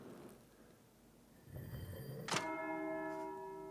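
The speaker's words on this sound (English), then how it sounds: "That's the bell for 6." A single abbey bell in Pentiment tolls for six o'clock, striking once with a clear metallic ring that hangs and slowly fades, preceded by soft shuffling ambience.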